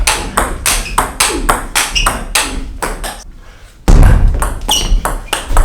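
A table tennis rally played with a STIGA Legacy Carbon high-carbon blade, a rapid run of sharp, close ball contacts and bounces with a brief lull before the hits resume.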